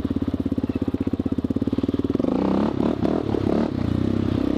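Sport quad engine thumping at a steady rhythmic idle, then snapping into a loud rev with rattly, uneven bursts as the front lifts into a wheelie, close and alone without talk.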